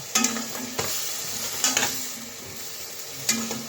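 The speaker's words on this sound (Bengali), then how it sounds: "ভালোভাবে নেড়ে চেড়ে ঢেকে রাখবো" Masala of cumin, turmeric and Kashmiri chilli powder being stirred in a pan while preparing kalibaush fish, a few scraping strokes over a soft steady sizzle, close and moderately loud with no talking.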